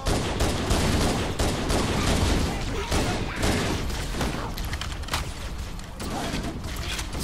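Pistol gunfire in Halo: CE Anniversary, with loud, dense shots and booms crowding together over continuous battle noise.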